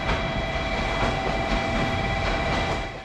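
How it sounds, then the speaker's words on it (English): A JR Kyushu Series 885 express train pulling in from the sidings, a loud, close, continuous rumble of wheels on rail with steady tonal whine and rhythmic clicking, no voices. "My train pulls in from the sidings right on time. It's a JR Kyushu Series 885"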